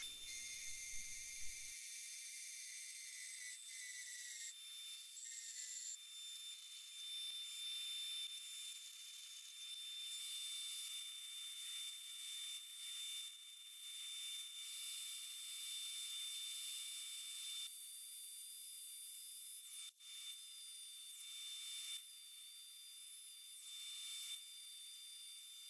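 A wooden burl bowl spins on a lathe while white diamond compound buffs it to a shine, giving a steady, close, high hissing whir that runs unbroken, with brief shifts in pitch as the pressure changes.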